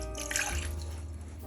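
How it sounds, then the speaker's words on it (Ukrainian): Water poured from a tap into a cooking pot for a citrus syrup, a brief splashing trickle that fades after the first half-second into a low steady hum. "Для цього наливаємо сюди воду"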